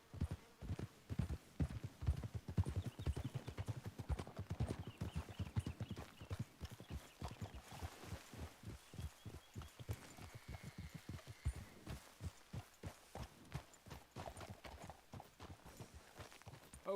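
Steady clip-clop of horse hooves walking at an even pace, close and continuous, with no talking, in the video game Red Dead Redemption 2.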